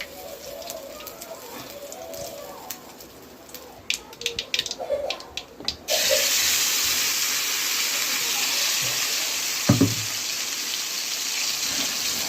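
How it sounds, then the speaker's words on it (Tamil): Mustard seeds and urad dal fry in hot oil for chutney; after some scattered clinks and light background sounds, a loud, continuous sizzling hiss starts abruptly midway and holds steady to the end. "கடுகு, உளுத்தம்பருப்பு போட்டுக்கலாம். நல்லா பொரிஞ்சதுக்கப்புறம் சட்னியை ஊற்றிக்கலாம்."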